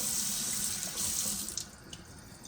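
Water runs from a tap while a little plain water is added to a meatball mixture, a close, steady splashing stream that softens and thins toward the end.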